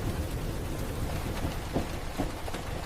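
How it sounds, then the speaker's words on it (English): Steady rain falling, a soft continuous hiss with faint scattered drops and a low rumble underneath, even in level throughout and without any voices. "Rain whispered softly against the train windows."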